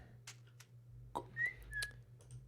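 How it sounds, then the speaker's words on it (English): A whistle from a holiday-themed video game server: two short, bright whistled tones a moment apart, clear over a low steady hum and a few soft clicks, with no talking. "so that was the whistle must be a server thing"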